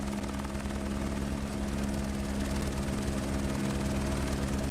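Helicopter rotor and engine drone at Cape Town airport in a flight simulator, loud and close as if standing beside it, a steady continuous hum with no voices.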